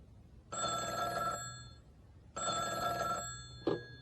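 A telephone bell rings twice in even, evenly spaced bursts, clear and fairly quiet, followed by a brief click.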